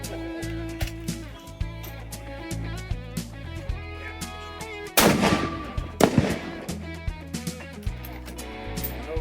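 Rifle fire on a long-range course aimed at a steel pot of gold target on an 800-yard berm, with a few sharp reports and booms standing out among dense tonal clatter and background noise.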